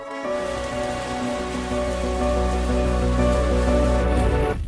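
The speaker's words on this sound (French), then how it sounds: "ajoutant l'effet sonore de la pluie avec une douce couche de musique" A rain sound effect layered in during video editing: a steady, dense patter of rain on a surface that stays loud and even for several seconds, mixed with soft sustained music, with no voices.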